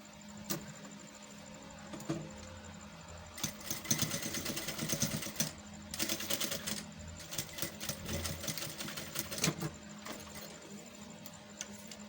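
Sewing machine stitching a straight seam on a bustier sleeve, with short bursts of motor whir and rapid needle chatter separated by pauses, close and moderately loud.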